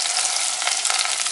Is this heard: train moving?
no